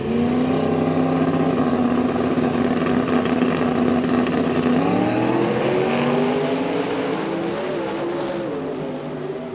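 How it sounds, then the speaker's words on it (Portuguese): A drag racing car launches and accelerates hard down the strip, its engine roaring loud and close with a rising pitch that climbs through gear changes, then fades as the car pulls away. "Foi pra cima, acelerando muito,"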